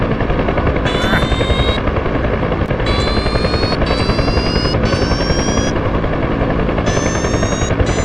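Helicopter hovering on its skid during a slope landing in a combat search and rescue setting: loud, constant rotor and engine roar close by, with rapid whining bursts and sharp pops over it, no voices.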